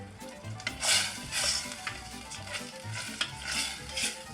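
Tomato pizza sauce cooks in a pan on the stove, a soft continuous bubbling sizzle with repeated scraping stirs and occasional light utensil clicks, close and moderately quiet.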